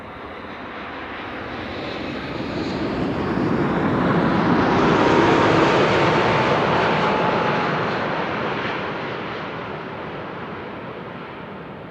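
A KLM airliner on KLM flight 749 lands at Amsterdam Schiphol on runway 36 right, a broad jet roar that swells to a loud peak and slowly fades.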